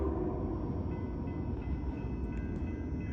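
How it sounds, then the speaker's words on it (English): A Norfolk Southern freight train with a Union Pacific unit trailing rolls past at Gaffney, South Carolina, a steady, loud rumble of wheels and rail cars that holds constant throughout, with no voices. "Now, the train of the night."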